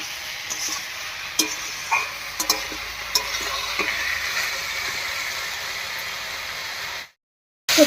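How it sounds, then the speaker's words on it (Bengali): Taro stolons frying with fish in a pan, a low steady sizzle with scattered sharp clicks of a spatula against metal, close by, before the sound cuts out abruptly near the end. "এই অবস্থায় কাঁঠালি মিঠির সঙ্গে কচুর লতিটাকেও একটু ভাজা ভাজা করে নেবো"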